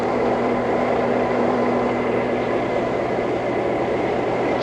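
Steady, loud rumble of the 1968 RFK campaign train in Oregon, idling or rolling slowly at a crowded station, with a constant hum throughout and no voices.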